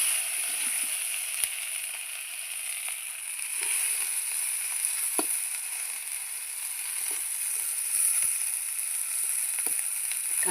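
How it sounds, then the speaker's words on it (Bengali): Raw green mango pieces frying in hot oil give a steady, close sizzle with faint crackles and occasional stirring clicks, continuous throughout with no talking. "তেলের মধ্যেই আমগুলো দিয়ে দিচ্ছি, একটু ভাজা ভাজা করে নেব"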